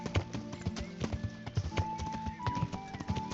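Steady hoof clip-clop of a horse at a walking pace in the video game Kingdom Come: Deliverance, a regular series of hollow knocks over faint background ambience.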